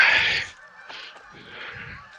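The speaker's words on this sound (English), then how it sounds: "you can hear the Canada geese in the background" Canada geese, a substantial flock, honk faintly in the distance, a scattered chorus of calls drifting over a soft outdoor background, with no voices nearby.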